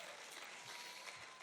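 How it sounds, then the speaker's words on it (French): A church congregation applauds at a twentieth-anniversary service, broad steady clapping filling the room without pause and no voices over it. "Vous pouvez applaudir plus fort"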